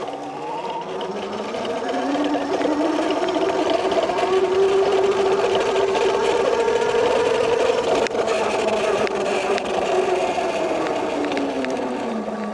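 A MEGAWHEELS D2 48-volt electric dirt bike motor whines under load while riding, a loud continuous hum whose pitch climbs and holds steady before easing slightly, layered over broadband wind and tire noise, no talking.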